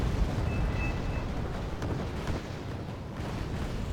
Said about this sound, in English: More F-16 bombs. More bombs, more bombs.